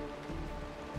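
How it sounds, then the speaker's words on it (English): Rain from the video game Honkai Star Rail falls steadily and softly as a continuous, faint patter with no voices. "This is the sound of rain."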